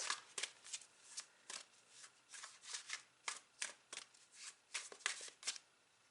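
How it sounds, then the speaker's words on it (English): Tarot cards are handled and drawn from a deck at close range, giving a series of soft, crisp riffling and sliding card sounds in an irregular rhythm, with no voices. "let me pick one final card"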